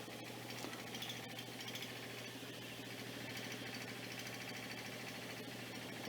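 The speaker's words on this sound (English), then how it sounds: "It is quite a loud engine." Old stationary engine on a four-wheeled trolley, running and pumping water: a loud, steady mechanical chugging with a constant low hum, continuous and close throughout.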